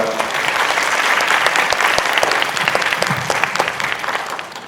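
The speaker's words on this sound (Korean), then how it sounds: "큰 박수로 맞이해 주시기 바랍니다" An audience claps loudly to welcome a presenter at a university admissions information session, dense sustained applause throughout that tapers slightly at the end.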